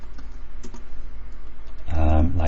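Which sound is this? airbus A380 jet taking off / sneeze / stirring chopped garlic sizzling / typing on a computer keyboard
typing on a computer keyboard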